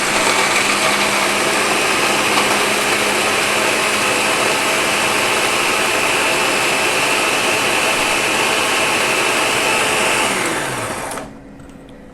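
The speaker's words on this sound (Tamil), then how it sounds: "ஸோ இப்போ இதை நம்ம நைஸாக அரைச்சி எடுத்துக்கலாம்" An electric mixer grinder coarsely grinding ingredients for an air fryer chicken wrap, a loud steady whirring drone running for about eleven seconds before switching off and winding down.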